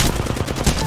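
Rapid automatic gunfire from the player's weapon in a video game, a tight burst of many closely spaced shots, loud and near, lasting under a second.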